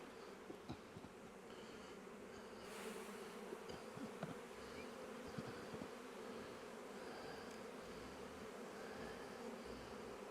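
Steady, dense buzzing of many honey bees around an open hive, continuous and close throughout, with a few brief louder passes of individual bees.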